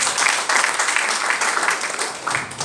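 A crowd at a business seminar claps hard together, a dense, steady roar of many hands filling the room for a few seconds with no talk over it.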